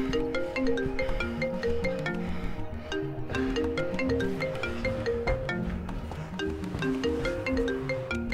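A phone rings in a French TV drama scene, its melodic electronic ringtone repeating its tune loudly and steadily throughout, with no one speaking.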